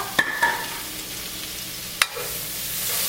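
Chopped sausage frying in oil in a pot, a steady soft sizzle under a few sharp clinks and knocks of a utensil stirring against the pot, with no talk.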